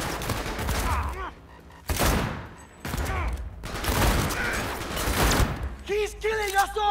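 Gunfire in the video game Cyberpunk 2077, with loud continuous bursts of shots and impacts filling most of the stretch as a player talks over them.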